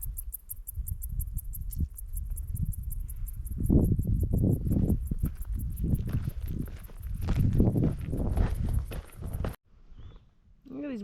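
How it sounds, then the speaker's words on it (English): Dense, rapid cricket or grasshopper chirping fills the air along the Pacific Crest Trail, a steady high pulsing trill over footsteps and rustling, with talking in the middle stretch. "Oh, the crickets are so loud here."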